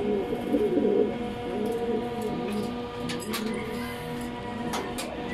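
A breeding pair of racing pigeons, a Debruxelles cock and a Vandenbroek hen, coo softly in a loft. Their low, rolling calls repeat over faint background noise, with a few light clicks and taps.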